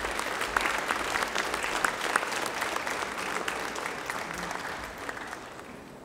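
A school auditorium audience applauds decorated graduating students at a Polish high school ceremony, steady hearty clapping from a crowd that slowly fades over several seconds.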